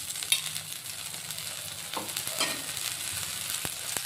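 Egg dosa roasting on a hot nonstick pan, a soft continuous sizzle with light scraping and stirring touches, close and fairly quiet, no talk.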